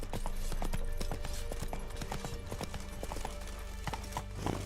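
Horse galloping in The Witcher 3: The Wild Hunt, with steady, rhythmic hoofbeats pounding close by over a low, continuous background rumble.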